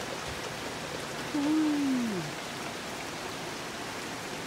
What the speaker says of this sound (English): we're getting rain, decent rain for the first time in weeks